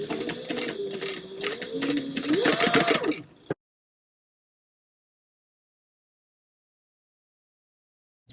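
A sewing machine at a stitch length of 4 base-stitches a zipper onto a circle bag, running in a fast, steady close-up whir with a rising pitch toward the end, then stopping abruptly into silence.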